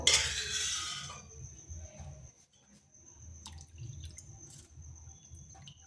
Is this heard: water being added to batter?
yes